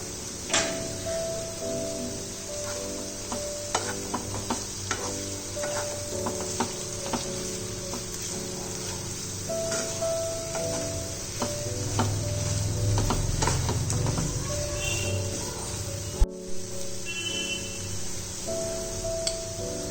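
Chopped snake gourd sautéed with turmeric powder in a pan, a soft continuous sizzle under repeated scraping and stirring taps of a spatula against the metal, close and steady.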